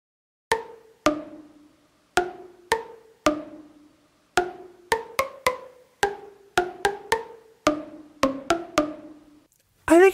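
A second take of a melody made by plucking thyme leaves: crisp, bright, sharply decaying plucked notes with clear pitches, forming a halting melody, close and alone, with a short sound at the very end.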